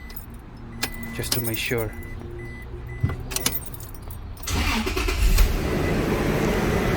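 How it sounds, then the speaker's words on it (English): Keys jangle and click in the ignition of a 2005-2015 Toyota Tacoma before the engine cranks and catches, then settles into a steady idle, with someone speaking briefly beforehand. "Turn the key. I'm gonna let it run for a minute"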